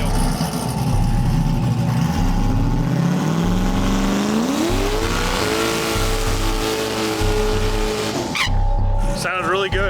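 A brand new drag race car makes its first pass down a drag strip, a loud engine roaring and rising in pitch as it accelerates, then dropping away, with speech heard over it.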